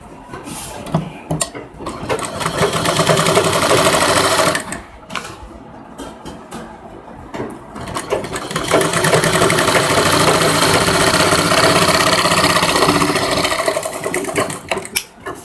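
A sewing machine stitches the side seam of a princess-cut lehenga blouse, with loud, steady mechanical whirring in long runs and a short pause partway through, close by and with no talking.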